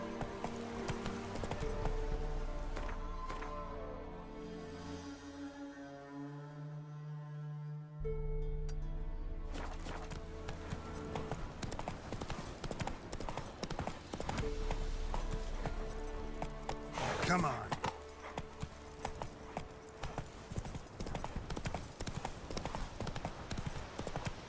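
Horse hooves clip-clop steadily in The Witcher 3 as the player's mount moves along, rhythmic close hoof beats under game music and ambience, pausing briefly midway before resuming.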